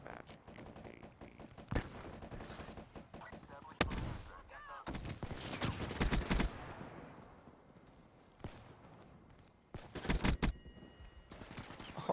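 Gunfire in a Black Ops 3 multiplayer match: bursts of rapid shots and single cracks come in loud clusters, with quieter stretches between and game sounds underneath.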